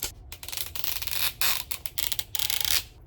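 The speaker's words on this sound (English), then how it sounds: "Can't get that zipper to zip." A zipper on a small surprise-egg toy package is tugged in short, uneven bursts of raspy scraping, several quick pulls with brief pauses between them, close and fairly loud.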